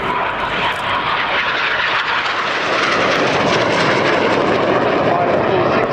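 Display team jets roar overhead while performing a manoeuvre at the RAF Cosford air show, a loud, sustained engine rush that swells slightly toward the end, with a commentator's voice running underneath.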